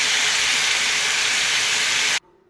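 Chicken pieces dropped into hot oil in a pan for a home-style curry, giving a loud, steady broadband sizzle that cuts off abruptly near the end, leaving quiet room tone.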